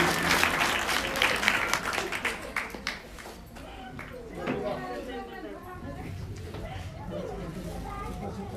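A crowd at a primary school function applauds guests called onto the stage, a dense, sustained clapping that gradually thins and fades into murmuring chatter.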